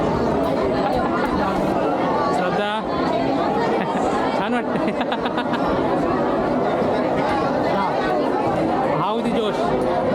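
A large crowd of devotees chattering at a Shani Dev temple, a loud, continuous murmur of many voices close around, with one person speaking over the din.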